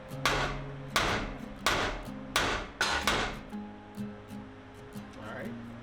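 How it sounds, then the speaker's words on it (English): A hammer raps a ball joint out of the front suspension of a 1997 Ford F350, about ten sharp metallic strikes in a steady rhythm, the later blows growing softer. "This should just take a few more taps of the hammer and it should just come right out."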